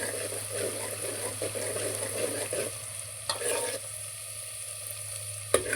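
Garlic and green coriander frying for an urad lentil dal, with a steady sizzle and occasional stirring scrapes running throughout, fairly close and without speech.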